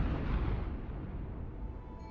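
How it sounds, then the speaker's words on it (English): A game explosion in Wuthering Waves, triggered through a security system, gives a loud, deep rumbling blast that slowly fades over about two seconds, with no voices present. "What caused the explosion?"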